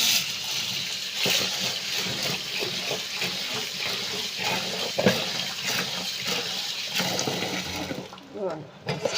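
Water runs and splashes steadily into a container, a continuous gurgling wash with a few louder knocks and a faint voice mixed in.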